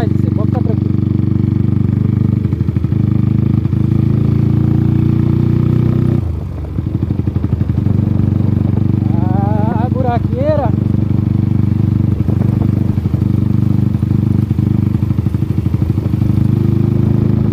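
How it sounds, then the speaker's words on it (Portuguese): A Honda Titan motorcycle engine runs loud and close through its exhaust with a steady, throbbing low note, dipping briefly midway, while a voice sounds faintly over it. "Deixa nos comentários aí o que vocês acham desse escape."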